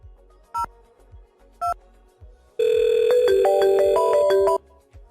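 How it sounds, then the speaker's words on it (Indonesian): Calling a 3CX VoIP server produces two short separate beeps, then a loud two-second burst of stepped DTMF-like dialing tones with no one speaking. "kita telepon ke 3CX"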